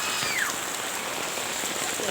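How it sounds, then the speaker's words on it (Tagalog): Steady rain falls as a dense, even hiss of drops across a surface, close and constant throughout. "Basta ulan."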